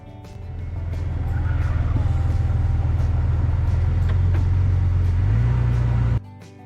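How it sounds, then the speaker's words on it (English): A 2000 Jeep XJ Cherokee pulls out of a shop, its engine a steady low drone with a throaty pulse that rises slightly in pitch before cutting off abruptly near the end, heard fairly close with no talking. "As the Jeep rolls out the shop"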